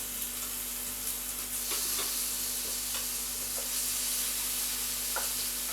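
Fish fries in a pan with coriander for spicy tacos, giving a steady, close sizzle with a constant frying hiss and a few scraping stirs along the way, and no voices.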